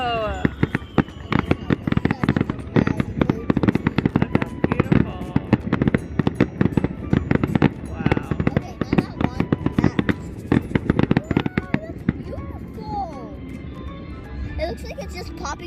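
A fireworks show at Six Flags bursts continuously, with dense cracks and booming pops layered over crowd noise and people talking and reacting nearby.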